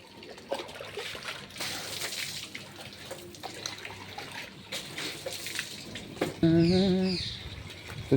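Water splashing and running over a very dirty motorbike during a wash, a steady broad wash of spray and trickle through most of the stretch, with a brief tonal squeal near the end.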